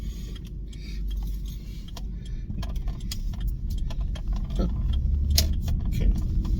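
A necklace hanging in a car swings and jangles in light, irregular metallic clinks over a steady low rumble of the moving vehicle.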